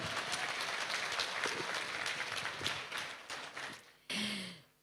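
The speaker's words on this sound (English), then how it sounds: "A big round of applause, ladies and gentlemen." Audience applause at an OPPO Reno2 smartphone launch event in India fills the hall as a dense, steady clatter of clapping. It fades near the end, then a brief burst of a different sound cuts in.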